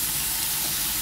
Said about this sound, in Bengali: ভালো করে চিচিঙ্গাগুলোকে এবার ভালো করে নাড়াচাড়া করে নেবো।